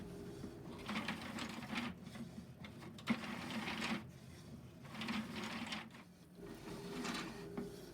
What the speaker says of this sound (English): Both the cable carriage and the weight cage move on these spiral cut rods that you see.